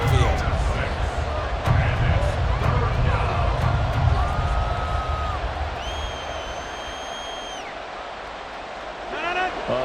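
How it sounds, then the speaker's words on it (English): A loud stadium crowd roars steadily, swelling with cheers and whistles toward the end, while an announcer talks over the noise throughout. "A big play here as the crowd noise rises."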